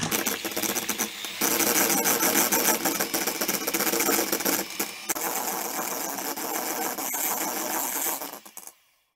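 An electric mixer whisks egg whites to stiff peaks for a tiramisu, a loud steady whirring buzz running continuously for about eight seconds before cutting off, with no talking.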